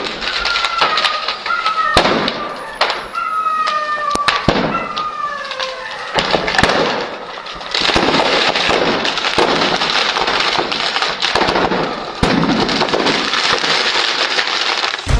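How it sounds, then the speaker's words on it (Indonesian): Celebratory gunfire into the air over Beirut, Lebanon, marking a ceasefire: dense, loud, irregular volleys of sharp cracks and bangs echoing across the city, with faint whistling tones and scattered bursts continuing without pause. "Sebagai perayaan gencatan senjata, tembakan dilepaskan ke udara."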